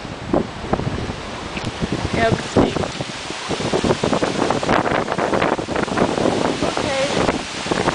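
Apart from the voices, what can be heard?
strong wind outdoors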